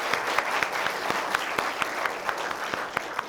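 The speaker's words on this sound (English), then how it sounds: "let's welcome her with a big round of applause" Steady applause from an audience, a dense patter of many hands clapping with a few sharper claps standing out.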